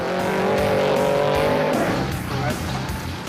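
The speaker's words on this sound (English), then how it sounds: "The so-called trophy trucks start first." Trophy trucks with engines up to 7 litres and 850 horsepower start an off-road race, roaring loudly at close range with a rising engine whine, while a voice talks over them.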